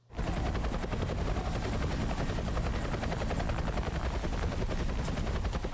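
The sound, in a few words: helicopter in a TV show being watched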